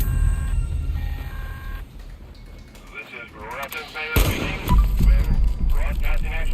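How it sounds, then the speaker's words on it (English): Hunting rifle shots fired at a rad scorpion in Fallout 76, loud booming reports amid dense game effects and music, with heavy low rumble and a sharp blast near the middle. "Hunting rifle versus rad scorpion."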